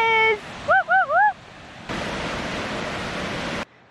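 A waterfall near Crater Lake, Oregon, roars as a dense, steady rush of water at the top of the falls. Before it comes in, a voice whoops and gives a few short warbling calls.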